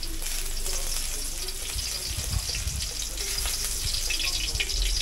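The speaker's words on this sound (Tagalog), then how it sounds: "At ngayon naman, igigisa ko na ang bawang." Garlic sautés in oil in a pan as the start of chicken pochero, a loud, continuous sizzling hiss with low scraping and stirring knocks throughout and no talking.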